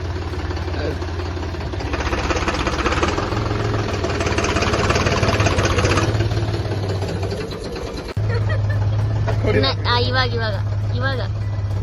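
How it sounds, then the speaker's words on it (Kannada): A tractor engine idles nearby on a village farm with a steady low rumble that shifts pitch partway through, while people talk over it. "ಅವ್ರ ಟ್ರ್ಯಾಕ್ಟರ್ ಇದು"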